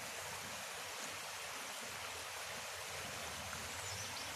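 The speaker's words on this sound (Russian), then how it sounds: "Вот речечка у нас шумит." A river stream rushes steadily nearby in early morning in Partenit, a constant broadband hiss of flowing water with no voices.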